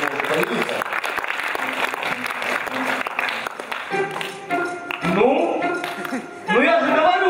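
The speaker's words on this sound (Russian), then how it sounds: "давайте встретим его аплодисменты" A KVN comedy show audience applauds as a performer is welcomed on stage, the crowd noise running under loud music and spoken announcements.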